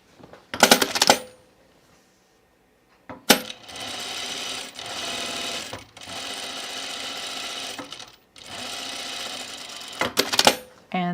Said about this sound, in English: I'm going to put my gathering stitch across the top of both fronts.